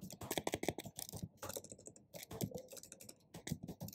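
Typing of a web address on a computer keyboard, rapid irregular key clicks close by, steady in bursts across the whole stretch with brief pauses between words.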